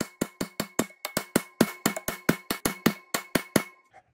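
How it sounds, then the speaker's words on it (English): Rubber mallet taps a Dewalt 735 planer's replacement cutter head into place, about fifteen sharp, evenly spaced knocks, close and alone. "I'm going to set it initially with a rubber mallet"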